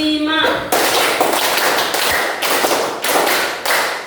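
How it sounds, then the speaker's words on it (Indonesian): A classroom audience at a teaching-practice session claps a rhythmic 'tepuk 5' pattern: crisp, loud bursts of many hands in a counted sequence, each burst ending in a sharp accent. A brief voice is heard just before the clapping. "kita berikan 2 kali tepuk 5"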